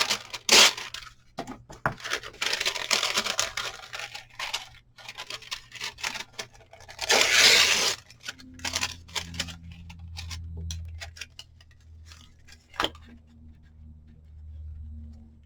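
Scissors snip through a paper file folder along its crease, giving bursts of crisp crunching and cutting noise with ticks and pauses between, close and fairly quiet.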